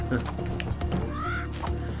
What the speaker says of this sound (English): And here we go with the birds.